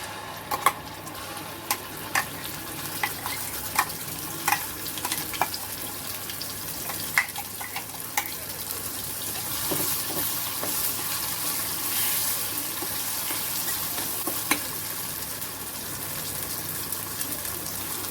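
Ground spice paste sizzles steadily in a hot pan of tempering for a green brinjal curry, with occasional light clicks and taps of stirring. No one speaks.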